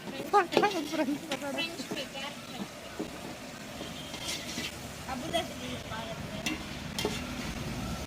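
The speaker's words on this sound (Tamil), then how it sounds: "பக்கோடா போட்றேன்" Pakoda frying in hot oil over an outdoor village cooking fire: a steady close sizzle with scraping stirring clatter, while voices talk over it throughout.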